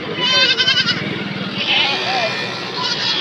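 A goat bleats repeatedly in a wavering, tremulous cry at a festival livestock market in Anthiyur, with crowd chatter and other animal noise around it.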